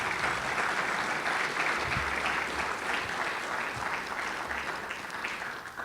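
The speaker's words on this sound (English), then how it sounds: "Let's give them a big round of applause, please." Audience applause at a Hall of Fame dinner, steady dense clapping from a large room that continues throughout and eases slightly toward the end.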